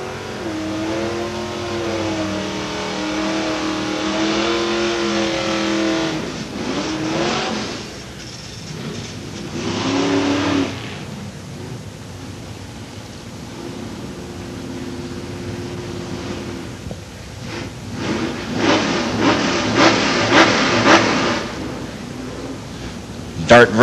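Dodge Dart race cars at a motorsports park, loud engine roar rising and falling as they rev and accelerate, with an announcer talking over the noise and a surge of revving near the end.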